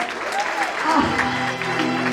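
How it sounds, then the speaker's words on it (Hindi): Audience applause for the contestants at a Jain religious drama staged at Gundecha Gardens: a steady, fairly loud wash of clapping that lasts about two seconds, with a voice or tonal sound running faintly underneath. "सारे कंटेस्टेंट के लिए जोरदार तालियां हो जाए।"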